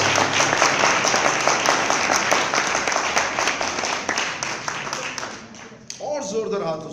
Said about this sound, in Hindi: क्या ये जोरदार तालियां थी?